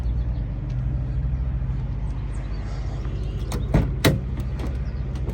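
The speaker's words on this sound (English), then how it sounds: "The doors open and close" A 1963 Chevrolet Impala SS convertible door shuts with two sharp, solid thunks in quick succession near the end, following a low steady rumble of background noise.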